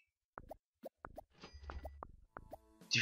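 Bubbles pop in the Game Dev Tycoon video game, a handful of soft, close plops spaced irregularly, with a low bubbly gurgle in the middle and a brighter burst at the end.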